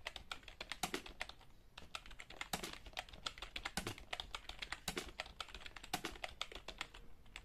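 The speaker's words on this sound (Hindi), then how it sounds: "देखिए अब सुनना टाइप करना है" Hindi typing practice on a computer keyboard: rapid, uneven clusters of crisp keystrokes clatter close by without pause, with no voices.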